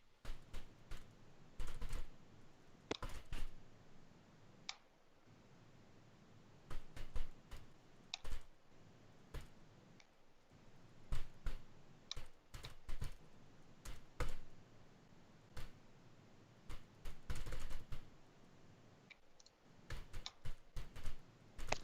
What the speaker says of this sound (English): Yeah, I'm just typing.